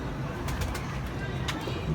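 Pigeons kept by a pigeon fancier coo softly over a constant low background hum, with a few faint bird calls and no clear speech.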